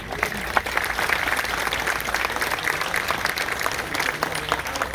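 A crowd at a Black Lives Matter protest applauds, a sustained even clatter of many hands clapping at moderate volume, with no speech over it.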